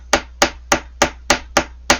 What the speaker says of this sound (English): first we're going to hammer